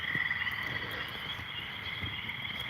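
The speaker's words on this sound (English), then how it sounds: "the old spring peepers are out" Spring peeper frogs call beside flooded sand traps, a steady chorus of thin high peeps layered into a continuous trilling wash that stays fairly faint and unbroken throughout.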